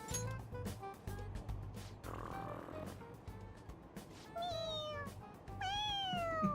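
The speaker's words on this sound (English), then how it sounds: "It meows when you press on its head." A stuffed cat toy meows when its head is pressed in the video game Persona 5 Royal. Several meows sound toward the end, the last ones louder, over a steady game background.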